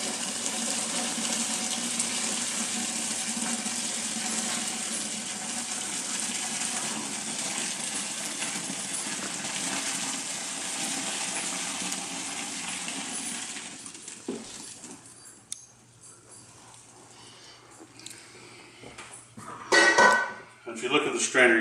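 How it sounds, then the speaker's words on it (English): Homemade borax laundry soap mixture poured through a strainer, a long steady liquid splash that tapers off, followed by a few clinks and knocks of containers and utensils. "Now here's my borax mixture. Pour that one in there. Run it through the strainer too."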